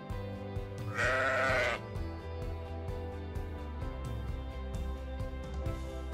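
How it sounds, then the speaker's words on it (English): A single sheep bleat, long and wavering, rises over steady background music, and the music continues alone after it. "Sheep."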